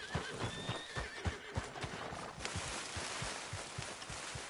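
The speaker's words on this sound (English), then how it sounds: "What's got this horse spook, huh?" A horse in Red Dead Redemption 2 lets out a shrill whinny over steady clip-clopping hooves, the hoofbeats continuing in an even rhythm after the neigh fades.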